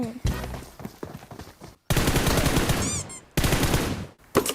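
Gunfire in PUBG Mobile rattles in dense automatic bursts broken by brief silent gaps, loud and close, with a voice talking over parts of it.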